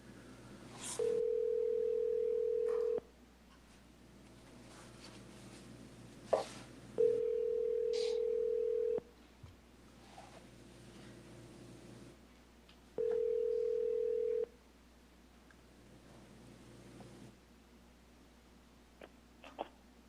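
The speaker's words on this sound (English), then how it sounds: "Because for some reason, Mr. Sapien, when we call him, has not been able to answer the phone" Telephone tone heard during a committee meeting phone call, repeating as three steady beeps of about two seconds each, spaced several seconds apart, with faint room noise in between.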